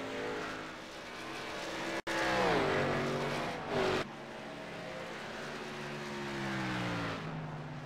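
Race car engine on track in a racing video game at Iowa, a loud steady drone that dips and rises through gear changes with a sharp cut partway through, alone and close.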